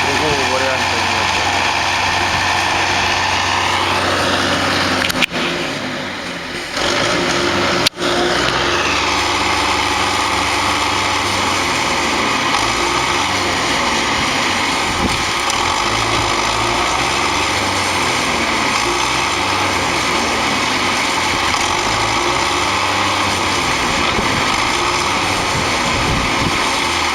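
A tractor engine runs loudly and continuously during a snowstorm in Zheleznogorsk, with a dense droning roar and wind-like hiss throughout and a brief dip partway through.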